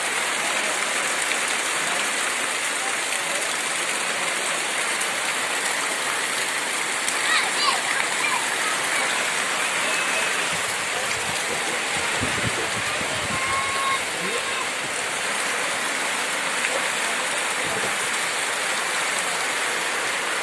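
Heavy rain pours down in a dense, continuous hiss, steady and close, with occasional louder splashes and faint low thuds underneath.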